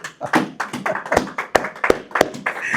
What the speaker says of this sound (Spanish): Dele un aplauso a Cristo